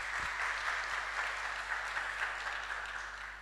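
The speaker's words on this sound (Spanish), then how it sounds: "Un aplauso." Audience applause after a workshop presentation, a dense, steady wash of many hands clapping that fades slightly toward the end.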